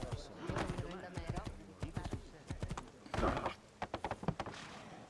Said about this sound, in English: I'm just going on this epic horse ride across Forley once again.